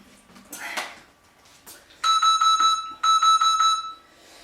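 An electronic workout interval timer beeps in two rapid pulsing bursts, loud and close, after a brief moment of faint voice and rustling.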